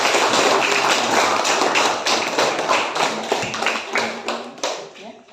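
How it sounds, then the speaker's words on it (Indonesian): A classroom group giving applause after a presentation, dense continuous clapping from many hands at close range that slowly thins out toward the end, with some voices mixed in. "Kita beri aplaus semua."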